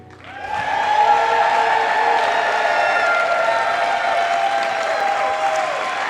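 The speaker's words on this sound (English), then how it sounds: "Thanks for your generous applause." Sustained applause from a convention audience at a state Democratic Party event, a dense wash of clapping that swells quickly and holds steady, loud and close, with no talking over it.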